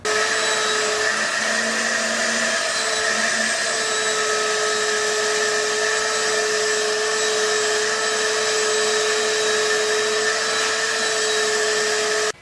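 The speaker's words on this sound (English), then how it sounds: "let's get vacuuming." A vacuum cleaner runs on a car's carpet: a continuous loud motor drone with a steady high whine, unbroken for the whole stretch, with no voices.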